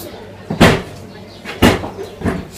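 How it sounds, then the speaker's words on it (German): A door that will not shut is pushed again and again, giving three thumping knocks about a second apart, up close, with no talk over them. "Die Tür geht nicht zu."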